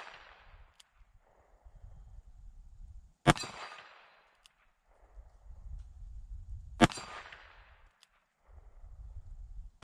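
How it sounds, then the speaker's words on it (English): A Taurus 605 revolver fires .38 Special +P rounds in single action at a small steel plate: two sharp, loud reports several seconds apart, each with a ringing tail, against quiet outdoor background. "I'm gonna try some single action shots again just because I'm not used to shooting this gun in single action"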